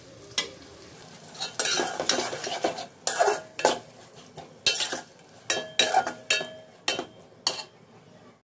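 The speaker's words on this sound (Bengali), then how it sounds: "এখন জাস্ট নেড়ে চেড়ে একটু মিশিয়ে নিচ্ছি।" Beef with whole garam masala and ginger-garlic paste is stirred in a sizzling pot for Chittagong-style Mejbani curry. A dozen sharp metal spoon scrapes and clinks land in an uneven rhythm over a soft fry hiss.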